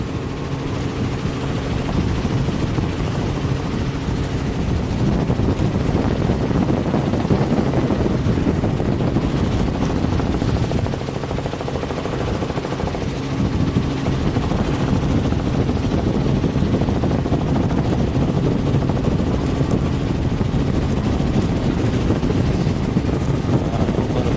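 A steady, loud helicopter rotor drone continues throughout, with a rhythmic thumping chop and no talking.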